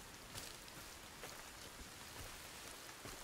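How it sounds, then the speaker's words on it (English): Steady rain in the survival video game Sons Of The Forest, a faint, even hiss of falling drops with no voices. "Oh, it's raining."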